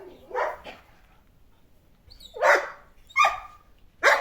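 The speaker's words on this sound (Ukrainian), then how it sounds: "Гавкає." A dog barks in a garden in several sharp, close bursts: a quick double bark, a pause, then three more spaced barks, with quiet between them.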